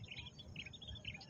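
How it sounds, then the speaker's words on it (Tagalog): Chirping birds in an open rice field with earthen dikes, quick high chirps scattered over steady low outdoor rumble, moderately distant and fairly faint. "Ibon sa bukid."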